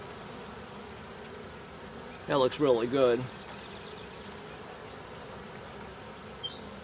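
Honey bees hum steadily around an August beehive where a queen cell was placed, a low continuous drone with a brief burst of nearby talk in the middle.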